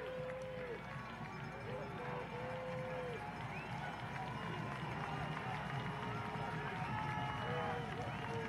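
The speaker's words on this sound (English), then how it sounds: "Trying to break through the crowd noise." A college football stadium crowd roars in a steady, dense wash during a Carson-Newman game against Newberry, with a loud continuous murmur and occasional whistles and shouts throughout.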